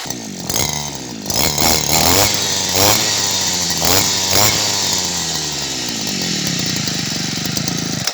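A small two-stroke Chinese-made brush cutter engine runs loudly and continuously, revving up and down in bursts before settling into a steady drone.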